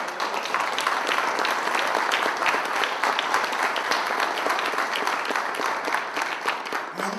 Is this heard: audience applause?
yes